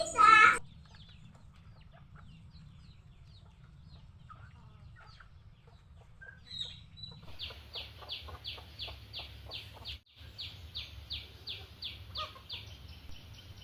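Free-range chickens cluck and call softly in a quiet yard among trees, a faint squawk early on, then a run of repeated clucks over low background noise.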